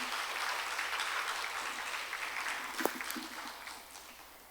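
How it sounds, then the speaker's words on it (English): Audience applause for an orchestra at a classical Indian dance recital, a soft, steady patter of clapping heard from a distance that fades toward the end. "I would like to give them a big,"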